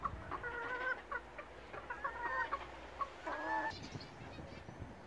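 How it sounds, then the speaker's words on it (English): Chickens on a smallholding cluck and call in a busy, overlapping run of short bursts after a snow melt, fairly near and steady throughout, with no talking. "the chickens seem to be rather happy"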